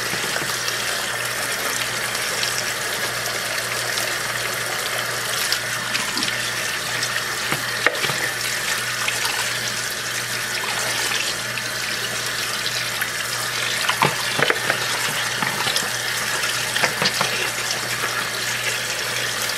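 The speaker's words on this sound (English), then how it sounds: "rinse it the fuck off. Cold water." Cold water runs steadily from a kitchen tap into a sink while food is rinsed, a loud, continuous gushing stream with small splashes and clinks from handling, and no talking.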